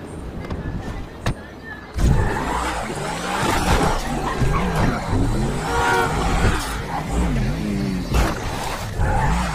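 A car in the GTA 5 Online video game revs and accelerates after a brief pause, its engine note climbing and falling in loud, close sweeps, with tire noise and short clicks layered over it.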